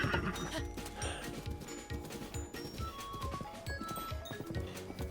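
Horse hooves in Zelda: Breath of the Wild, a rapid rhythmic clip-clop of galloping steps running continuously over game music, at moderate volume.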